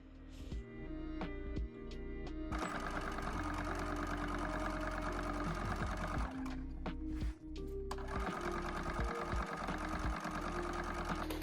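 A sewing machine stitches a puffy upcycled vest, sewn right sides together around the edges: a close, steady mechanical whir that runs nearly unbroken, pausing briefly once or twice.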